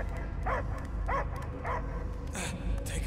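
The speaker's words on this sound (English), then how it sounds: "I hear only barking." Short repeated dog barks and yips sound in the Guardians of the Galaxy video game, several evenly spaced bursts heard over a heavy low rumbling background score.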